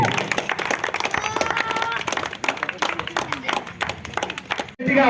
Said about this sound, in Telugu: ఒకసారి అందరు కింద వాళ్ళు చప్పట్లు కొడితే మేనేజ్మెంట్ టీంకి